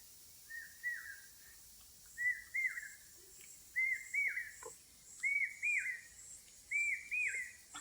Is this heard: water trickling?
no